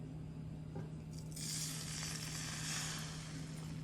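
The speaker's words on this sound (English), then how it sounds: "We're going to water saute our vegetables." Vegetables water-sautéing in a heated pan, a soft continuous sizzle that swells after the first second and holds steady, close and fairly quiet over a low background hum.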